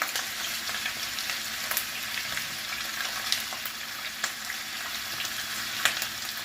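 Chicken drumsticks fry in a pan, a steady close crackling sizzle with scattered sharper pops and no voices.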